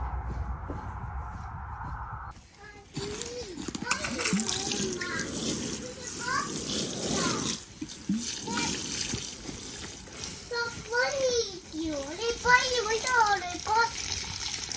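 Water fetched and poured onto plants in a spring garden, splashing and trickling steadily at close range, with people talking over it throughout.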